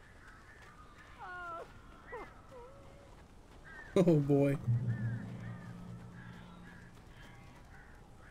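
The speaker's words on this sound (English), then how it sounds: "These birds are weird." Crows caw in a run of harsh calls in the horror game Alan Wake, sitting under a man's speech, with a louder burst of flapping and screeching in the middle followed by a low droning tone.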